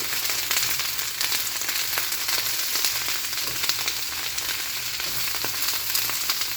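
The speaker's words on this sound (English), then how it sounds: "Add all your vegetables to the pan and stir." Vegetables with chicken and cabbage stir-frying in a pan over medium heat, giving a loud continuous close sizzle and crackle with no talking.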